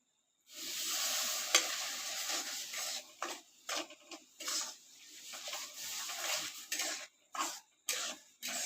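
Semolina is stirred in a pan as milk is added bit by bit, producing bursts of sizzling hiss and scraping strokes separated by brief pauses, close and fairly quiet.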